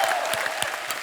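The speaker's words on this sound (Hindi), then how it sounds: "जोरदार तालियां।" A studio audience on a comedy talk show breaks into a brief burst of loud applause, dense clapping with a few sharper individual claps standing out over a one-second stretch.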